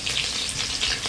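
Potato pieces dropped into hot oil one by one for a chicken curry, a steady close hiss of frying that runs without a break through the brief moment.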